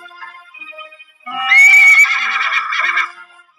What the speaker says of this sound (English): He neighs like a horse.